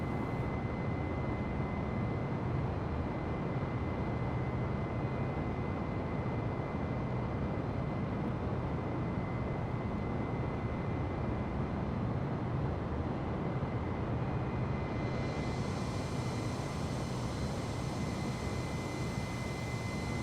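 A steady, even engine drone fills the cabin of an Airbus A320neo in Microsoft Flight Simulator on Xbox Series X. It is a constant low rumble with a faint high whine, unchanging and with no voices.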